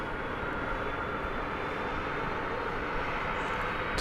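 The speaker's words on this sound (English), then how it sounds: "This is a 767, and this is going to RFD Airport in the Chicagoland area." A ten-year-old Boeing 767-300 airliner backing out at DFW Airport in the evening gives a steady, loud broadband jet engine roar that holds even throughout, with no talk.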